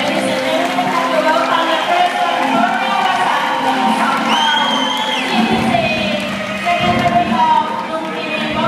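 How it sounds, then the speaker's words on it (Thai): A large crowd at a Thai boxing event in Thailand cheers and shouts continuously, with a brief whistle-like tone partway through. Voices talk amid the noise. "ขอเสียงปรบมือต้อนรับท่านเลขาธิการสมาคมลุมพินีครับและกรรมการสภามวยโลกครับท่านเอกวสันต์พึ่งสอง"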